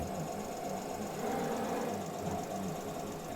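A metal lathe cutting a 2.0 pitch, three-start thread produces a steady, low mechanical hum with a continuous whirring drone and faint scraping throughout, with no voices.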